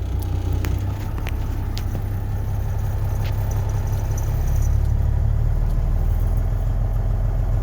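A semi truck's diesel engine runs at steady cruising RPM, a loud constant low rumble with a faint rise in intensity partway through and no talking.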